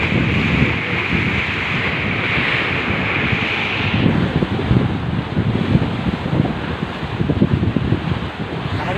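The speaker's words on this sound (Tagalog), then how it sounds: "Medyo malakas po ang alon." Strong ocean waves crash and surge continuously at Atimonan, Quezon, mixed with gusty wind buffeting the microphone, loud and close.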